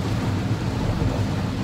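Steady rain with a low thunder rumble heard outside a window, a dense continuous wash of noise that stays loud and even throughout, with no voices.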